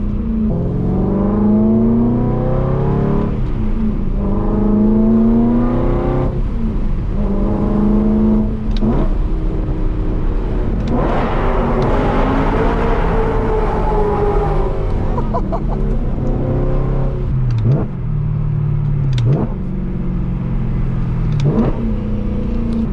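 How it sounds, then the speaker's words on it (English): A BMW E92 M3 engine revs hard in loud, close bursts, with sharp throttle blips that rise and fall on the downshifts and run continuously with no one talking. "The crazy thing about that crazy throttle response is it allows you to blip off downshifts so effortlessly"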